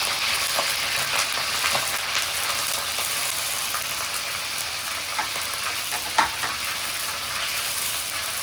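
Beef frying in hot oil in a pan, a loud, steady close sizzle with scattered crackles and one sharp clack from a utensil, no speech over it.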